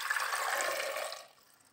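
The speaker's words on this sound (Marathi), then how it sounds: "याच्यामध्ये पाणी ओतून घेतले" Water poured into a pressure cooker holding raw mangoes in a home kitchen: a short, soft splashing pour that fades out after about a second, faint and alone.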